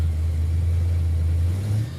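A Chevrolet Impala with an EFI engine drives along, its engine a steady, loud low rumble that holds evenly for about two seconds and then eases slightly at the end, with no talk over it.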